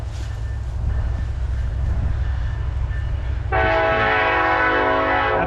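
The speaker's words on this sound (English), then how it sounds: "Damn train." A train rumbles past nearby with a heavy low roar, then a loud sustained horn blast cuts in near the end, close to an old abandoned house.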